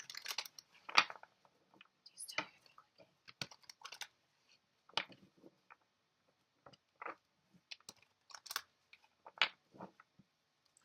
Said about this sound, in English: I'm trying to be cognizant for the sound of the cards for the Leos